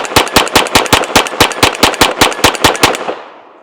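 A Smith & Wesson M&P 22X pistol, unsuppressed, fires Federal bulk 22 LR rounds in a fast, even string of about sixteen sharp, loud cracks, then a brief fading tail.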